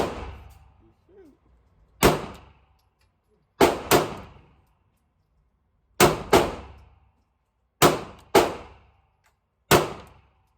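Gunshots at a gun range strike steel targets, sounding as eight sharp, loud cracks with metallic ring-outs, spaced irregularly and some in quick pairs, with quiet between them and a brief faint voice near the start.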